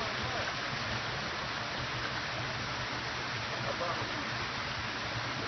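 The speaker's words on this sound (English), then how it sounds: "We got the nice waterfall." Waterfall pouring at a deep creek, a steady broadband rush of falling water that fills the whole stretch with an even, continuous roar at moderate distance.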